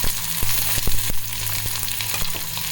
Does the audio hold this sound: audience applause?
no